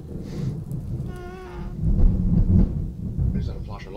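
Close thunder during a storm breaks as a deep, heavy rumble that swells for about a second before easing off, with rain-like noise and a brief voice around it.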